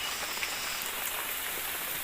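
A downpour drums steadily on a riverside treehouse, a constant close wash of rain hiss with faint scattered drop taps, and no talking.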